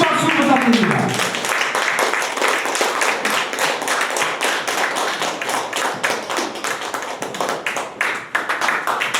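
Applause greets a speaker at a lecture on anti-corruption, the audience clapping in distinct, fairly brisk claps that stay steady throughout, with some individual hands standing out nearby.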